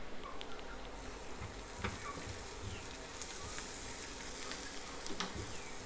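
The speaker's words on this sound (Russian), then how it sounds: "я надеюсь, вентилятор мой не мешает" Steady electric fan whir running continuously in a home kitchen, with faint sizzling of frying food underneath, no voices.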